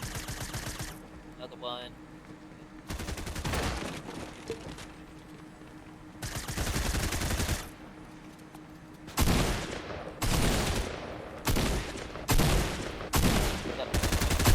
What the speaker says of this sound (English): I'm in the lobby shooting, trying to shoot out the players